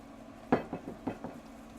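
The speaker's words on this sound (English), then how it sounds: "see, I'm mixing this up really good." Crawfish bread filling mixed by hand in a bowl, a few soft wet squelching strokes and light clinks in quick succession, faint and close in a quiet kitchen.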